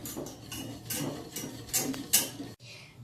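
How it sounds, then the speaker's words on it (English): Butter and milk being slowly mixed in a bowl for macaroons, with a spoon or whisk clinking and scraping against the sides in a rhythmic series of soft strokes. "And now we're going to add our butter. Milk, and slowly mix."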